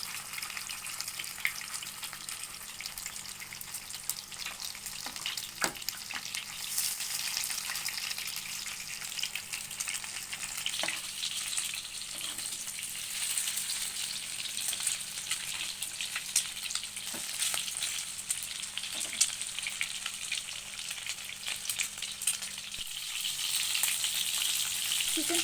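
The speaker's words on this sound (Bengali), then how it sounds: "এবার চিকেনগুলোকে এপিট ওপিট করে একটু ভেজে নিতে হবে।" Chicken pakora pieces fry in hot oil and are turned over, giving a long, even sizzle with occasional soft scraping and stirring sounds and no talking.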